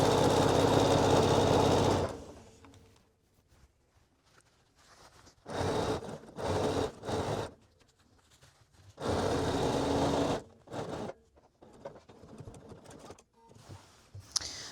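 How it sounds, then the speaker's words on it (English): Sewing machine stitching a skirt seam with a half-inch allowance and the placket facing up, running in several bursts of fast whirring broken by pauses, the longest run at the start. "I'm sewing with the placket up just so I don't accidentally catch anything I don't mean to"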